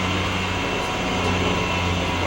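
A grinder cuts out a pin on a dirt bike chain with a loud, steady, droning roar and a low hum underneath. The noise runs unbroken and close, with no voices.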